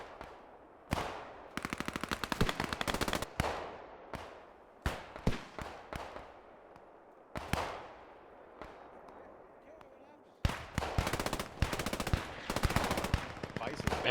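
Rapid automatic Tommy gun fire in long bursts with single shots between, loud and close, echoing sharply in a video game battle.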